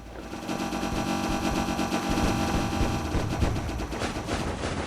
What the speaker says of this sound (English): one fully loaded Kavacha shot will deal massive amounts of damage to these guys